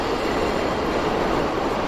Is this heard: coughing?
no